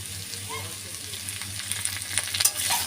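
Potatoes and pumpkin frying together in a pan for a Bengali vegetarian curry, a steady close oil sizzle with occasional stirring scrapes that grow busier toward the end; no talk.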